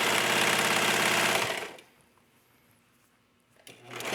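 A serger sewing machine stitches fabric with a fast, loud, steady whir that stops after about a second and a half, then starts again briefly near the end.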